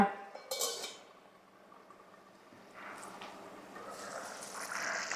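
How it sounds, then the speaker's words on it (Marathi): Metal clinks and scrapes of a lid being set on a pan of peas and spinach cooking on a medium gas flame, faint and brief, followed by soft rustling kitchen noise. "पुन्हा एकदा झाकण ठेवूया"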